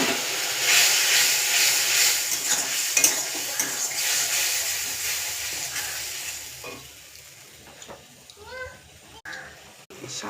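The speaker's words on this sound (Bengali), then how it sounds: "মশলাগুলো বেশ ভাজা হয়েই এসছে। সামান্য একটু জল দিলাম" Spices frying in a pan: cumin powder, turmeric and red chili powder with a splash of water. A loud, steady sizzle with stirring scrapes fills the first part, then fades to a softer bubbling hiss with occasional clinks.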